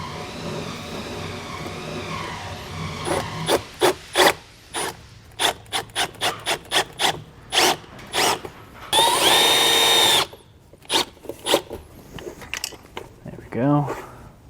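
A power drill drives screws to secure a unit during a vehicle management system installation, giving one sustained whirring burst close by, with scraping, tapping handling noises before and after.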